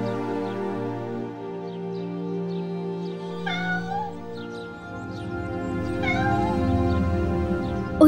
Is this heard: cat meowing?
yes